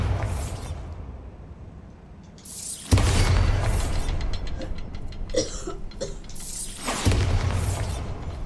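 A Bombarda spell blasts inside a Hogwarts Legacy dungeon with a sudden loud boom and crumbling debris, followed by rumbling rubble and a second impact burst near the end.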